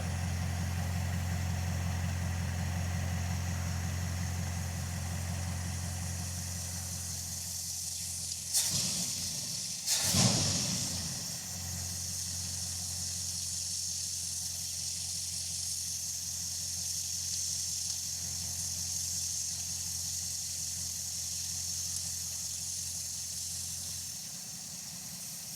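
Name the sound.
engine idling while idle speed is adjusted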